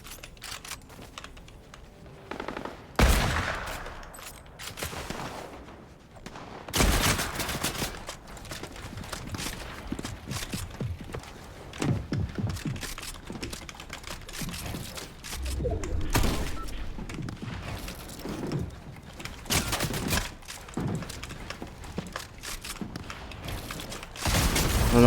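Pump shotgun called the Bouga fired in a video game, several loud broadband blasts scattered across the span amid busy game noise, with a player talking in places.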